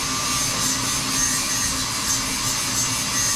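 A grinder wearing down a metal fender patch piece for a 1969 Dodge Daytona, a steady abrasive whine that holds constant and close for the whole stretch.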